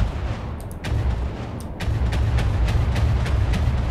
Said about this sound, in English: It sounds pretty cool as a kind of autocannon to give you get the background rumble.